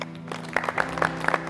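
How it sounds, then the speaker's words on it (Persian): An audience in a Mafia-style party game show bursts into a short round of clapping, a brief, moderately loud patter of hands. "تشویقش کنید لطفا."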